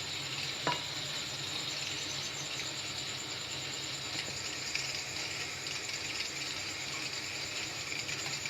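Almond cake batter being mixed by hand as powdered sugar is added a little at a time, giving a steady, continuous close-up swishing and scraping with no pauses and no talking.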